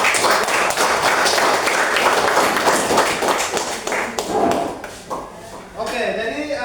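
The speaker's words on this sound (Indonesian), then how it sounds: "Tepuk tangan dulu." Classroom students clapping their hands after a group presentation, a brisk burst of applause that thins out while voices begin talking near the end.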